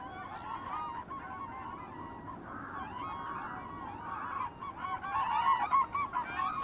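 Cranes call across Bhutan's Phobjikha Valley, a chorus of honking, trumpeting cries at a distance over an airy background, growing louder and more rapid in the last couple of seconds.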